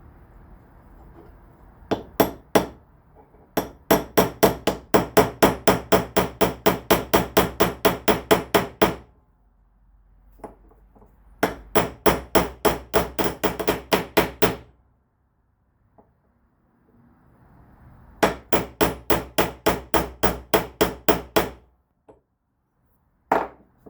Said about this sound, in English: I've got to find something to put the new bearing in with, and I'm thinking a socket